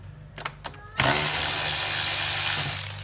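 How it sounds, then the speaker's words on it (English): An 8mm socket wrench works loose the hose clamps on a Ram engine during spark plug removal: a few sharp clicks, then a loud, steady mechanical whirring that runs close and continuous to the end. "we use an 8mm socket to get these hose clamps off"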